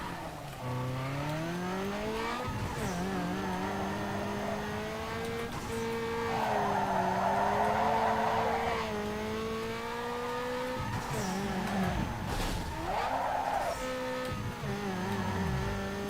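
A car drifting through a corner in a Need for Speed game, engine roaring steadily with rising and falling revs and a sustained tire skid squeal during the slide, loud and continuous.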